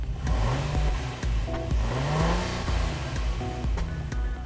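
A 2017 Acura MDX Sport Hybrid with a 3-liter V6 accelerates hard, its engine note climbing through rising revs, briefly dropping at gear shifts, then climbing again, loud and close with no talking.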